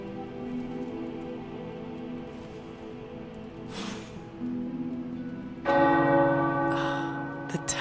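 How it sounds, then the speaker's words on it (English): Tower bells ring out in the video game Marvel's Midnight Suns with sustained, overlapping tones over a soft background patter, growing louder and fuller toward the end. "The tower bells are ringing."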